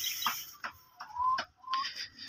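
Backyard chickens cluck at feeding time, a few short, near clucks and calls spaced irregularly over quiet surroundings.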